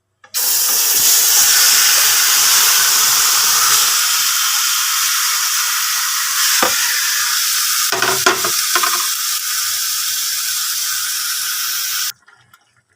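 Boal fish dropped into a hot dry wok with no oil or water, giving a loud steady sizzle with scraping stir strokes partway through. The sizzle cuts off abruptly at the end.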